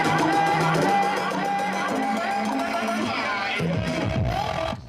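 Live crowd at a DJ set at an arena, a Juno Award winner's show: dense cheering and hubbub with musical tones underneath, loud and sustained throughout, fading slightly at the end.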